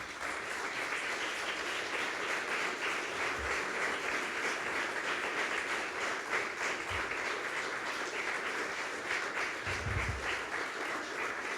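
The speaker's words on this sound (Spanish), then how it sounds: "Dale un aplauso al Señor." Sustained applause at a church service fills the whole stretch, a dense, even wash of clapping that never lets up, with a few low thumps underneath.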